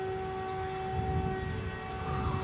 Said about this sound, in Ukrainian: Цілими днями, ночами вмикається сирена по всьому місту.